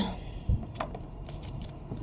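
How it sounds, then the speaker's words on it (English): Tarot cards being shuffled by hand, a short burst of soft papery riffling and flicking close up, quiet and brief with a light tap partway through. "just going to shuffle some of these out."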